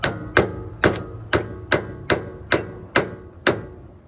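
A hammer taps a pitman arm tie rod bolt on a 1999-2004 Ford F-150 or F-250 steering setup. Nine sharp metallic strikes come at an even pace, loud and close, with no talking.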